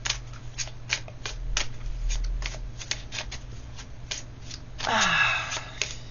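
Oracle cards are shuffled by hand in quick, crisp riffling bursts, close and fairly loud, ending in a longer flutter as the deck is squared; no speech.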